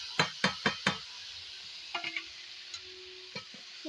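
A spoon stirs boiled banana flower and potato with spices in a pan, giving four quick scraping strokes close by, then a few lighter scrapes and taps over a faint steady sizzle.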